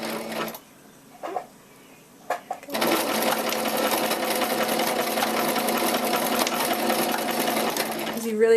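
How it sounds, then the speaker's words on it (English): A sewing machine back stitches a few times near the end of a seam on a hat, after a couple of short quiet bursts, then runs in one loud, steady, continuous drone right up close. "just back stitch a couple times"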